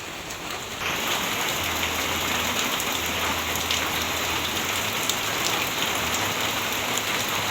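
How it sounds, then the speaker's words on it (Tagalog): Steady rain pouring down outdoors, a dense continuous hiss of drops on surfaces, with a low engine-like hum underneath; no talk. "Dito po ay naulan, wala na po tigil ang ulan po dito."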